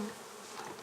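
Honey bees buzz at a hive in a brief, faint, steady hum with no voices.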